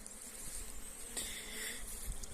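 Carpathian mountain honey bees fly one or two at a time near a hive, a faint, thin buzzing that comes and goes against a quiet outdoor background.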